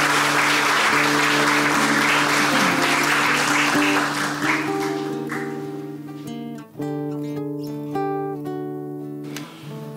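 Applause in a Brazilian city council session during an honoree tribute, clapping that fades over the first half while sustained music tones carry on and take over.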